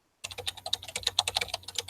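Rapid, uneven clatter of computer keyboard keys with repeated space bar presses, close and fairly loud, running steadily for almost two seconds with no talking.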